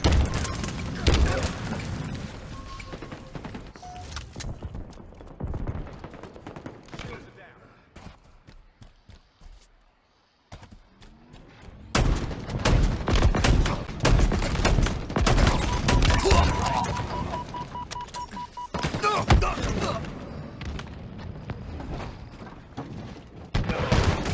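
Halo Infinite combat with a grenade blast and bursts of gunfire, loud clattering volleys and booms that drop away briefly mid-way and then return, under players talking.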